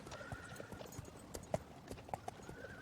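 Horse hooves clip-clopping on hard ground, a steady series of sharp, fairly quiet knocks at close range, with a faint whinny-like tone in the background.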